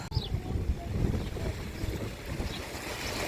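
Steady wind gusts buffet the microphone with low rumbling noise in Cherkasy, alongside a faint wash of water being blown, with no voices.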